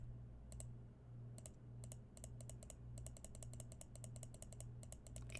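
A computer mouse clicks over and over while someone backtests a trading chart, with sharp clicks arriving in quick irregular bursts and short gaps over a steady low electrical hum.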